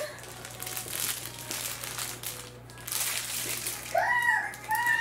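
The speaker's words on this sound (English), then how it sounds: "I'm going to take it out of the bag so you guys can see" A plastic bag crinkles and rustles loudly and close as a large PU leather tote with long straps and gold zippers is pulled out of it. A voice briefly speaks near the end.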